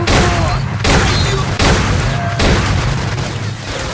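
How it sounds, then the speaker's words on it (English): Shotgun fire in the video game STALKER Clear Sky, several loud close blasts spaced about a second apart, each with a sharp crack and rolling low boom over battle noise. "Shotgun always seems to fire an extra shot."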